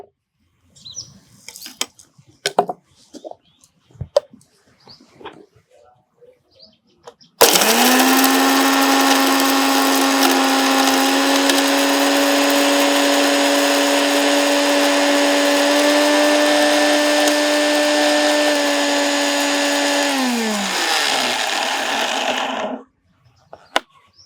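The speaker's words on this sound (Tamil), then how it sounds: "இதை நாம் வந்து மிக்சியில் அடித்து பவுடர் பண்ண போகிறோம்" A mixer grinder powders coriander seeds and long pepper, switching on abruptly with a loud steady whine that holds for about fifteen seconds, then winds down; scattered small clicks and handling noises come before it.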